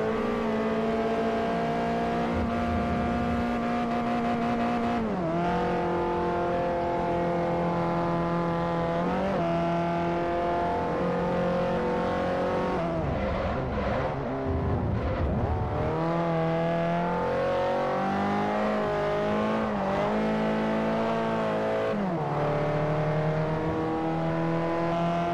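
Slow inline-four race cars in Forza Motorsport 4 roar continuously around a track, engines revving up and dropping at gear changes, loud and steady throughout, with no talk.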